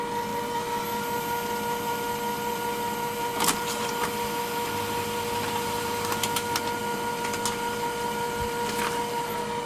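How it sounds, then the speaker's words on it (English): A Brother laser printer prints a page, giving off a loud, steady mechanical whir with sustained tones and a few brief clicks and clatters of paper feeding through. "Printer is quick, but printer is noisy."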